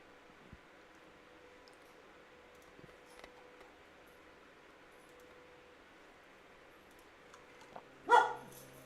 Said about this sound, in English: What are you barking at, buddy?